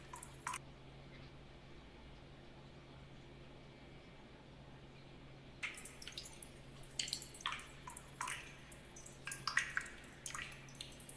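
Sparse water drips plop and splash in a sewer, quiet at first over a steady low hum, then growing more frequent and irregular toward the end.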